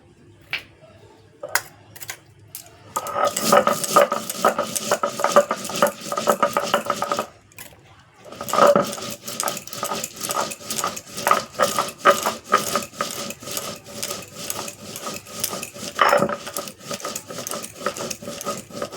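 Mustard seeds being ground into a paste by hand, giving a steady series of rough scraping, rattling strokes close by, briefly pausing partway, with no one talking.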